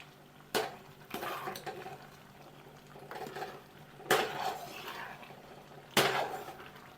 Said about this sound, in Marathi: आता हे सर्व मिश्रण एकत्र करून घ्यायचं